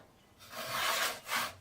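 A handsaw cuts through a wooden board in two rasping strokes, the first long and rising, the second shorter after a brief pause, close and fairly quiet with no talk.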